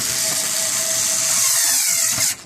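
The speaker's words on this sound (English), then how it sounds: "And when the screwdriver stops, you don't hit it again and again, because again, that'll make metal fragments." An electric screwdriver drives screws into a computer case during a PC build, giving a steady high motor whine that runs loud and close for about two seconds, then cuts off abruptly.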